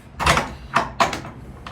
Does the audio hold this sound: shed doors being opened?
yes